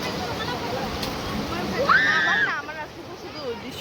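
People wading and splashing in water at a jungle outing spot: steady nearby sloshing and splashing, with voices talking and calling out over it.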